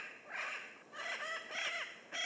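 Yellow-billed parrots in Jamaica give raucous, harsh squawking calls, several in quick succession, moderately near against a quiet background.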